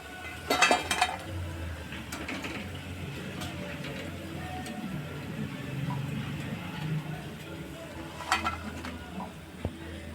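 Fried wild-greens bhaji fritters are lifted out of a pan of hot oil: a soft steady sizzle runs underneath while a utensil scrapes and clicks against the pan in a few short bursts, close and fairly quiet.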